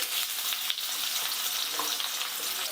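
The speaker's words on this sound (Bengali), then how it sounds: "দিয়ে দিলাম আলু পেঁপে এই এই কয়েকটা সবজি আমি একটু ভালো করে ভেজে নিচ্ছি" Carrots, sweet potato, potato and papaya fry in a pan of leftover oil, giving a steady close crackling sizzle with soft stirring, no voices.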